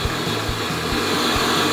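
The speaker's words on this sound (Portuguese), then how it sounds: "Vamos abaixar a trava da batedeira e bater sempre numa velocidade pequena primeiro" A stand mixer beats a lemon tart mixture at low speed, its motor whirring steadily and loudly up close while the beaters thump in a regular, quick rhythm.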